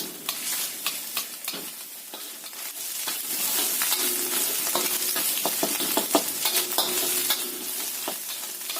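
Shallots and garlic fry in hot oil for fried rice vermicelli, with a close, bright sizzle and repeated scraping stirs from a spatula.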